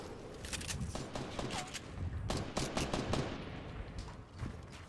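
Rapid bursts of gunfire in the video game Fortnite, a string of sharp cracks and automatic rattles scattered through the clip, fairly close and loud against a busy background.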